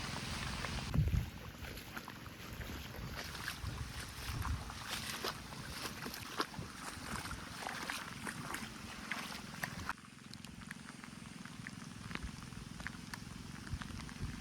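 Steady broadband rushing of rainwater flowing through brimming flooded rice fields, continuous and fairly loud throughout, with a brief slight drop partway through.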